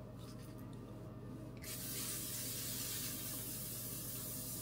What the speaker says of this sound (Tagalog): L'Oreal na setting spray.